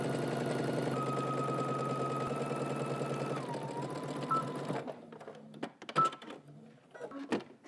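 A sewing machine runs a long steady stitch up a pants side seam, whirring at an even pace for several seconds. It then slows and stops, followed by a few faint clicks and handling sounds.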